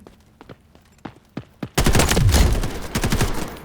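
Delta Force Operations video game gunfire: a few sharp single shots spaced apart, then a loud rapid burst of continuous fire with rumbling impacts, close and dominant.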